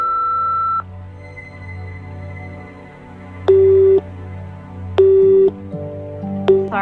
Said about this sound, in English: Please feel free to leave a message after the beep.